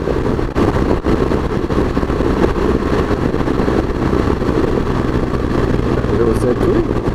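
A motorcycle engine drones steadily at speed on an open road, loud and continuous with rushing wind, a rider's voice occasionally heard above it.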